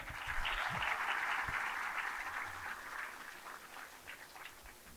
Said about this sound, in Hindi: एक बार जोरदार तालियां दे दे।